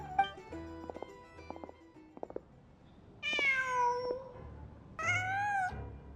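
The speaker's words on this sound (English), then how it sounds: "Just a cat." A cat in the Genshin Impact video game gives two clear, drawn-out meows close by, after a few soft chiming game tones with quiet pauses between them.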